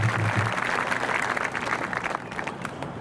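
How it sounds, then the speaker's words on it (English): An audience at a school district graduation ceremony claps in a sustained, dense round of applause from a large crowd in a hall or stadium. It is loud at the start and eases off slightly toward the end. "Let's give them a round of applause as well"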